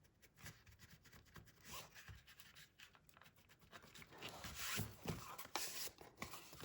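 Pencil marks being erased on a vintage book journal, soft intermittent rubbing and scratching strokes that are faint at first and grow denser and louder toward the end, close and with no talk.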